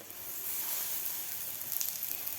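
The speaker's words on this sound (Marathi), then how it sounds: "आता आपल्याला हे बनवून घेतलेले कटलेट पॅनमध्ये सोडायचे आहेत" Bottle gourd cutlets frying in oil in a pan over a medium flame, giving a continuous soft sizzle and hiss, close and fairly quiet, with no talking.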